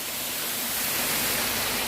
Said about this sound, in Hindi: वहाँ भी एक झरना है अभी